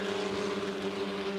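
Onboard Formula Regional race car, Rodrigo Gutierrez's No. 10, running down the hill into turn 8 at Road America, with a loud, sustained high-revving engine drone and a strong steady tone throughout.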